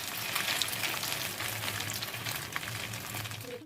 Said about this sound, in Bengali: ভালো করে ভেজে নেবো, উল্টে পাল্টে